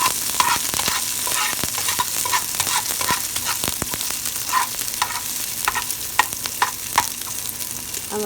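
Tortilla pieces frying in oil for red chilaquiles: a dense, steady sizzle with frequent scraping and clacking as they are stirred around the pan, fairly close, no talk.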